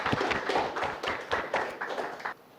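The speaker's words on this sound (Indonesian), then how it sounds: "Mungkin tepuk tangan dulu untuk temannya." Students in a classroom clap for a classmate in a short burst of scattered, uneven claps from several people nearby, fading out at the end.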